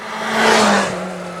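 A Kawasaki H2 SX SE supercharged motorcycle surges past close by, its engine note swelling into a loud whooshing roar before easing off, with a steady low hum underneath.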